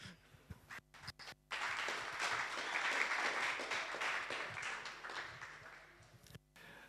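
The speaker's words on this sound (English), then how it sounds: "Come join us, hear this talk, and give a warm applause" Audience applause at a tech talk welcoming a speaker, a steady wash of clapping that starts after a few brief sounds and holds at moderate loudness for several seconds.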